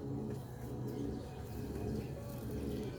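Teddy pigeons coo close by, low soft rolling calls that repeat over a steady background murmur.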